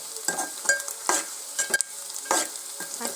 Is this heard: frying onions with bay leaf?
yes